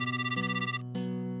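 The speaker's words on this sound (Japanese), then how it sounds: "リサから電話ってどういうことだ？" An incoming call's ringtone plays, a bright electronic melody with a pulsing repeated pattern that briefly cuts out and resumes, alone without voices.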